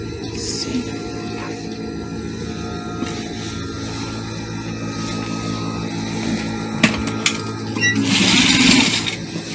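Sewing machine stitching a kids' peplum dress with lace, a steady mechanical whir running continuously with small clicks and a brief louder burst near the end, close and alone without talk.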